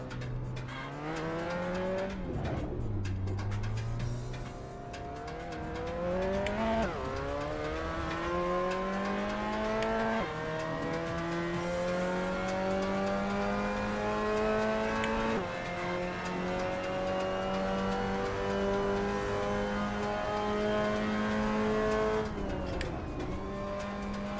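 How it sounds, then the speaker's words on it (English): Mazda MX5 Cup car in a VR racing game at Silverstone, engine droning loudly and continuously as the revs climb and drop through gear changes while the car drifts, with no voices over it. "I'm drifting more than I'm racing, and I'm gonna get somebody killed"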